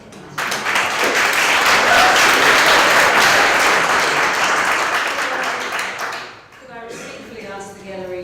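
Crowd in a council meeting public gallery breaks into loud sustained applause, close and dense, fading out after several seconds before a voice begins speaking.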